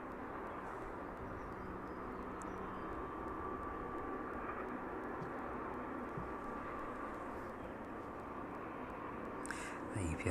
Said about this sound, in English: UPS 767 in from Philadelphia, just passing over the M1 then.